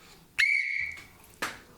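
A single sharp, shrill whistle blast, steady and piercing for about half a second, then a second brief burst shortly after.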